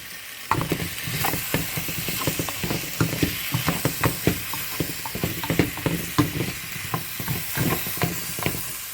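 Seasoned potatoes being mixed in a bowl for roasting, with a steady run of close scraping and clattering strokes and no talking.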